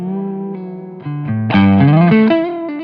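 Keeley stereo plate reverb pedal emulating an EMT-140 plate, with a sustained, effected instrumental chord line shifting through several notes, swelling louder and brighter halfway through and wrapped in a lush, continuous reverb tail.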